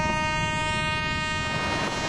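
A train rumbles along a Himalayan mountain railway line near Shimla, giving a dense continuous roar with a sustained tonal whine over it that drops out partway through, close and loud, with no voices.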